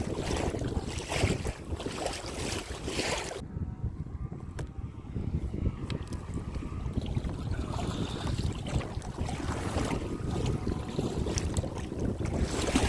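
Strong headwind roars across a kayak out on rough Currituck Sound, buffeting the microphone in loud, gusty rushes with constant choppy water noise beneath and a brief lull early on.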